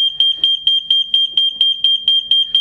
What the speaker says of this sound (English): Here's one horn.